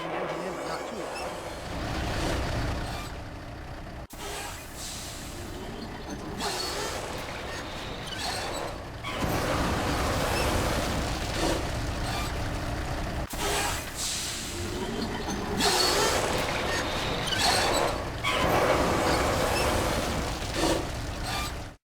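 A layered industrial smelter sound effect for the game Shoot Many Robots blends oily churning, metallic squeaks and a low engine rumble into a dense, continuous roar that swells and dips in loudness over about twenty seconds.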